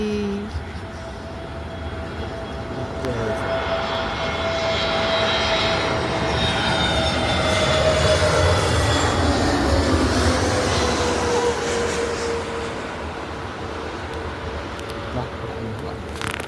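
Airplane engines roar steadily, swelling toward the middle with a high whine over low rumble, then slowly easing off.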